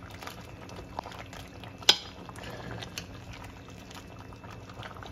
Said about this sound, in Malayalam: ഇനിയിപ്പോ നന്നായിട്ട് ഒന്ന് മിക്സ് ചെയ്തിട്ട് ഇത് നന്നായി ഒന്ന് നമുക്ക് ഉടച്ചെടുക്കാം